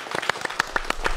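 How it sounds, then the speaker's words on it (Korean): A handful of separate, crisp hand claps from a small audience at a public talk on space science, sounding briefly and sparsely at moderate level in a hall. "박수 감사합니다."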